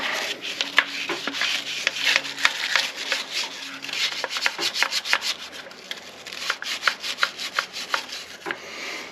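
A stiff brush scrubs brake dust cleaner around a heavily brake-dusted wheel rim, with rapid, rhythmic back-and-forth scrubbing strokes that are close and loud, with no speech.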